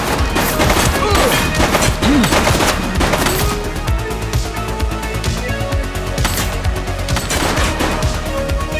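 Gunfire from a suspect in the police game The Precinct: dense bursts of rapid shots and crashes fill the clip, loud and near, with heavier volleys at the start and again near the end.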